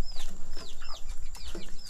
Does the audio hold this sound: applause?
no